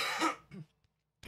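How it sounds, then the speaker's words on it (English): A few close, hoarse coughs from a person with respiratory trouble, a strong throaty burst followed by a smaller cough, then quiet and a brief final sound. "I'm genuinely, genuinely sorry for the coughing."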